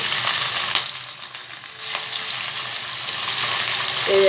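Fish frying in hot oil gives a steady, close crackling sizzle that runs through the whole stretch, with small pops and a brief clatter near the end and no one speaking.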